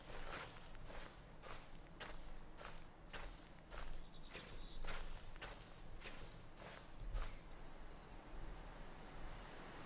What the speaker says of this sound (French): Entendez les bruits de pas?